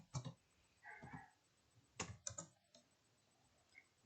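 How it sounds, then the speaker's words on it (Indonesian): A few quick clicks of typing on a computer keyboard, in two short bursts with gaps between, close up and fairly quiet with no talking. "Seperti kita mengetik ya biasanya."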